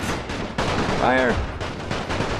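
Gunfire volley in the war strategy game The Great War, a dense loud burst of rifle and artillery-like shots that runs through the whole moment, mixed with game effects and a brief tonal call.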